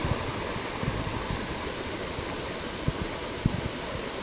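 A jungle waterfall in Costa Rica pours in a steady, dense rush of water, close and constant, with occasional small splashes breaking through.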